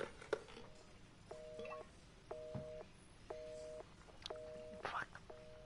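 A phone is dialed in a horror video game, with a series of evenly spaced electronic keypad tones, each a short steady beep, heard faintly amid quiet background noise.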